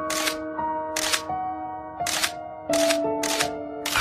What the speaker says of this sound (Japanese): 夢中でシャッターを押した